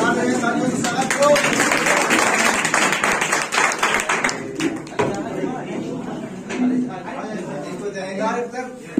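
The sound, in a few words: audience clapping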